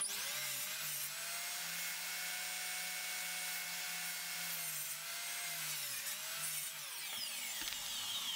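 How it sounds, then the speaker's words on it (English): A crosscut power saw cuts steadily through a wooden rail for a side gate, with a continuous whine and grinding hum. It is near and loud, easing off in the last second with no talk. "I just use the crosscut saw"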